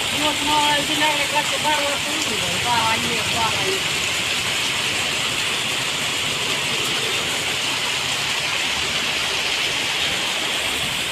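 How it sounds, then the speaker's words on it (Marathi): Heavy rain pours steadily at night in a rural Marathi setting, a dense, continuous hiss close around with no break, while a voice talks over it early on. "कसला पाऊस पडतोय लय पाऊस पडलाय"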